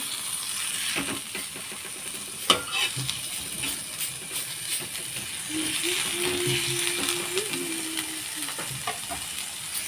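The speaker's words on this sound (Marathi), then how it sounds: "एक छोटावाला टॅमॅटो तो पण असा याच्यावर मस्त मऊसूद असा मऊसूद असा भाजून घेते" A small tomato softening in a hot pan with spices for a spicy capsicum dish, making a quiet, steady sizzle with scattered clicks and scrapes from stirring, plus one sharp knock early on.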